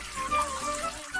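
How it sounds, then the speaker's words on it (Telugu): Water is poured over someone during a bath after a gram-flour scrub. A brief, close splashing gush lasts about a second, with faint tonal background sounds. "నీళ్ళు పోయి"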